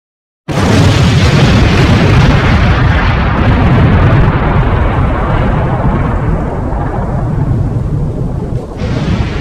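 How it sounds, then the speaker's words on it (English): A bomb goes off beside furnaces in Stardew Valley, a sudden loud blast that rolls into a long, dense rumbling roar lasting several seconds before a slight drop near the end. "Accidentally place the bomb right beside your furnaces."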